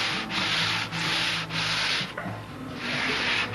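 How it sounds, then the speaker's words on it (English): Wood is rubbed back and forth over sandpaper strips glued to a tabletop, a close, steady rasping with brief dips at each change of stroke, during wing finishing on a Brodak Cardinal model aircraft. "how handy it is to have these sanding strips, sandpaper glued right to the table"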